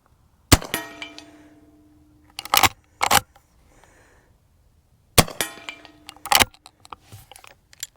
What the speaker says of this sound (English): The very first shots with the